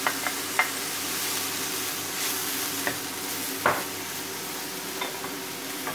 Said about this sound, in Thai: หมูเริ่มสุกนะครับเราใส่